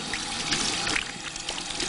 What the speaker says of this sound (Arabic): نغسل اليدين إلى الرسغين، ونخلل بين الأصابع